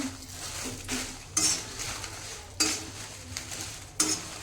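Dried red chillies roast in oil in a pan for chutney, with a soft sizzle under regular spatula scrapes and clinks recurring roughly every second and a half.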